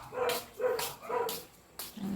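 A dog barks four times in a steady rhythm at moderate distance, each bark short and sharp, with quiet room sound between.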